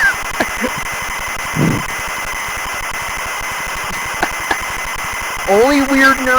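Home computer game cassette tape loading as a continuous pulsing, buzzing data tone, with a few brief clicks and knocks and a short burst of background voice near the end.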